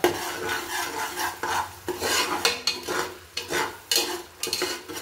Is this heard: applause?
no